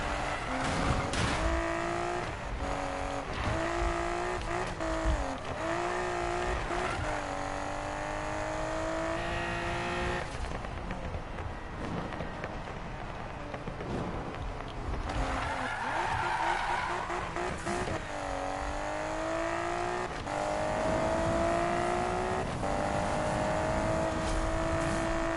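A Mazda MX-5 drift car in Need for Speed 2015 revs hard through tight corners, its engine note rising and falling in long sweeping pitches with continuous loud, near drone and occasional tyre squeal throughout.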